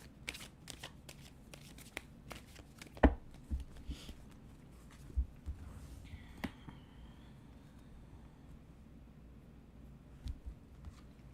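A deck of cards being shuffled, a steady run of soft riffling and tapping with a few sharper snaps, close and fairly quiet, with no talk.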